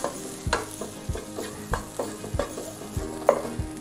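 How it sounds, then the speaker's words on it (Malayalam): Beef kumbanadan is stirred in a pan, with rhythmic spatula scrapes roughly every half second over a low frying sizzle, close and clear with no talking. "ഒന്ന് ഇളക്കി കൊടുക്കാം"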